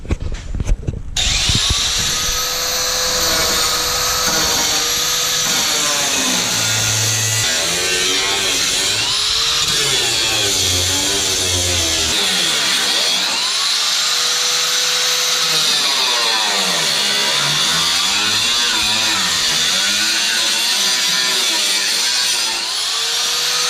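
A power cutter slices through the sheet-metal body of a Nissan 240SX to fit overfenders, a loud continuous whine and grinding that rises and falls in pitch as the blade works, heard close by.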